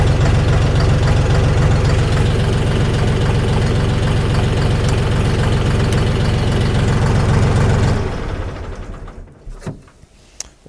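A DTZ HPX5244 mini tractor engine idles steadily and close by with a low, even rumble, then cuts off about two thirds through, leaving faint clicks and quiet.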